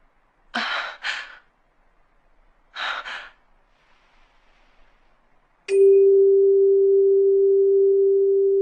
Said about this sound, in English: The ah sound. It's used for tuning musical instruments.